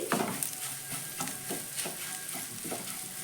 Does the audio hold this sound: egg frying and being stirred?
yes